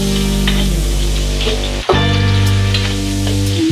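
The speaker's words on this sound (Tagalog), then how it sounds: "Ito ang ating white onion, igigisa ko lang." White onion sautéing in a hot pan sizzles loudly and continuously, with one brief dip as the pieces are stirred before the steady frying resumes.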